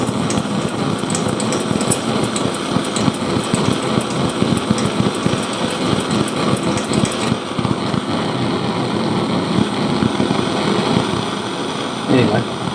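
Pumped kerosene blowlamp running, a steady roaring hiss that holds for several seconds at close range, with someone talking over it.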